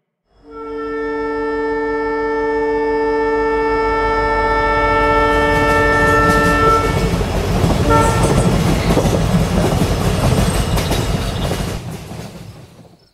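A train passes with a long, loud horn blast at the start, then a heavy rumble and clickety-clack of wheels that swells and fades, with no voices.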